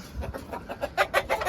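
Fancy chickens on a quail and chicken farm, bantams among them, clucking in a quick series of short, close calls that grow louder toward the end, with no talk.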